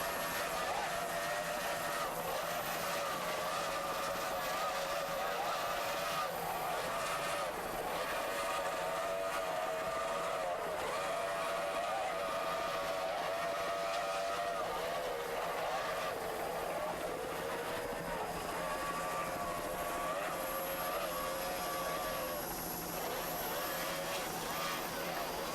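A new 30-foot Cobra powerboat with 2.5 EFI engines runs under throttle during S-Class powerboat racing at Erie, PA, giving a loud, continuous engine drone with steady wavering tones, and a voice is faintly heard beneath it.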